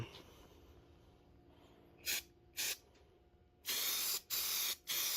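A spray paint can hisses in several short sprays outdoors while painting a car chassis: two quick bursts, then three longer ones close together, loud and near.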